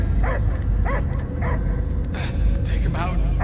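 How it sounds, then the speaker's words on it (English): Dog barking and whimpering in the video game Guardians of the Galaxy, repeated yips rising over a dense game soundtrack and ambience, with a voice speaking in between. "I hear only barking."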